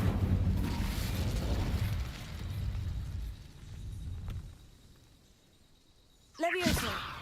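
The Incendio fire spell in Hogwarts Legacy bursts out as a rumbling whoosh that fades into low crackle, then a sharp bright magical burst near the end, under game background.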